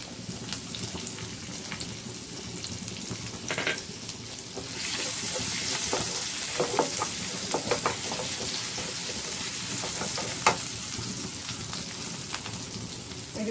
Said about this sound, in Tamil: சீரகம் பொரிஞ்சதும் இது வந்து பூண்டும் பச்சை மிளகாவும், ஒரு 2 பல் பூண்டும் ஒரு 2 பச்சை மிளகாவும் நல்லா நைஸாக நறுக்கி வச்சுருக்கேன்